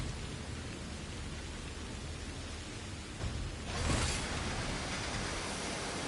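Steady rain in the video game Synduality Echoes of Ada, a dense broadband hiss that swells slightly louder partway through and stays constant to the end, with no voices.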